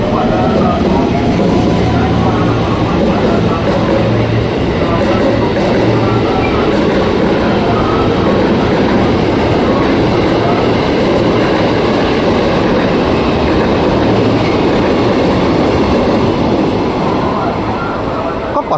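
A KRL commuter train bound for Kampung Bandan runs at track 1 of Sudirman station in Jakarta, a loud, close, steady rumble of railcars with faint clattering and a brief squeal, while station voices murmur underneath.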